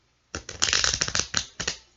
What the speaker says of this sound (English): So I'm going to do